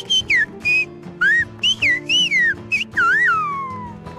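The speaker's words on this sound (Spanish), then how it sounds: "existe un idioma silbado." Silbo Gomero, the whistled language of La Gomera in the Canary Islands, carried as a series of loud, clear whistled phrases with gliding, rising and falling pitch, separated by short pauses and heard alone.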